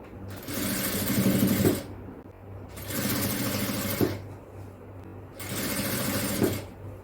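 A sewing machine stitches a folded neck edge of a child's frock-style night dress in three sustained runs, each lasting over a second, separated by short pauses, heard close and clear with no talking.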